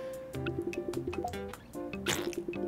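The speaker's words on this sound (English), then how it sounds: "Oh, big fart." A dog character lets out a squelchy, wet cartoon fart in a pet-raising video game, a series of drippy, squishy pops over a steady musical backdrop, fairly close and loud.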